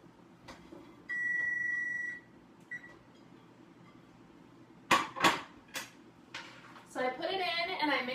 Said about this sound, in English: So my timer's about to ding.